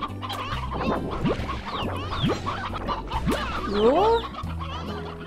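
Chickens in the video game Slime Rancher cluck and squawk close by, several rising clucks at a steady pace over a low game soundtrack, with one brief spoken word.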